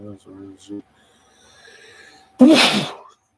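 A single sudden, loud, breathy sneeze bursts out close to the microphone after a few brief spoken words and a quiet stretch.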